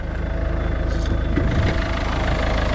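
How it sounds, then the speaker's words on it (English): A 1.6 HDI diesel engine idles in a steady, low, rough rumble, heard close and continuous with a slight rhythmic knock and no talking. "Engine sounds all right, innit?"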